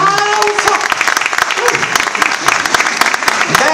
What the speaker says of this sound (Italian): Fatemi un applauso!